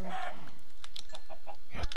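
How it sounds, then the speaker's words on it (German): Chickens in Minecraft give short, repeated clucks, several soft bursts close by in a brief stretch with no talking. "Wir haben mehrere erwachsene Hühner."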